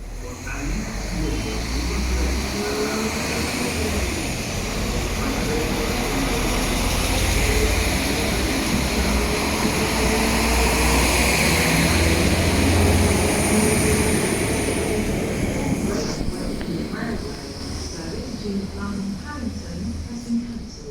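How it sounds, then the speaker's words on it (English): A GWR High Speed Train in HST configuration, diesel-powered with power car 43027 leading, pulls into platform 1 at Cardiff Central, giving a steady, loud engine rumble and rail noise that swells and then eases, with some voices in the background. "And here is our train, now arriving on platform 1, the HST configuration."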